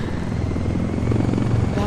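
A helicopter flies in Ghost Recon Wildlands with a loud, close, continuous rotor thump and engine drone, and speech runs over it.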